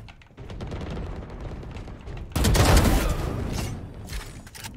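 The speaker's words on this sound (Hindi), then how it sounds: "random fire" Random gunfire in a video game, a burst of shots and booms that jumps suddenly loud partway through and then continues as a dense rattle before fading a little.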